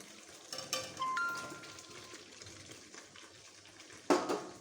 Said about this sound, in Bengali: এবার আমি দিয়ে দেব এঁচোড় আর ভেজে রাখা আলুটা।